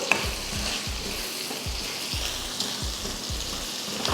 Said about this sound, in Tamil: மஞ்சள் தூள் சேர்த்துட்டும் கலந்து விட்டுறணும்